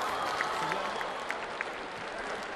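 A home crowd at the 2014 World Men's Curling Championship, Canada against Czech Republic, applauds in a steady, somewhat distant wash of clapping in an arena, even in level with a few sharper claps.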